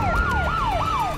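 Fire truck siren wailing in quick repeating rising-and-falling sweeps, about three cycles, loud and near, with traffic rumble underneath.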